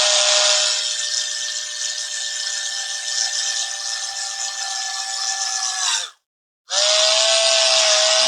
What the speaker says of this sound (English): That's why it's good to have a step drill in the shop.